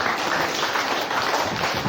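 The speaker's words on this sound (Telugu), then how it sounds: "ఒకసారి మళ్ళీ క్లాప్స్ కొట్టవలసింది" Applause from an audience at a Pyramid meditation centre in Allagadda, a steady wash of many hands clapping for the whole stretch.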